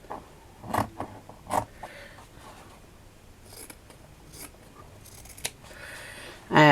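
Scissors snip along a fabric edge while trimming material for a handmade embroidered fabric journal, several separate close cuts with quiet pauses between them and a louder rustle at the end.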